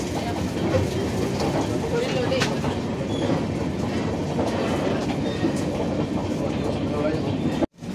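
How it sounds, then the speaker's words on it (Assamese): A moving passenger train rolls on with a steady, loud rumble and clatter heard from close by, continuous throughout before a brief sudden cut near the end. "ট্ৰেইন চলাই আছে ইয়াতে চাওক"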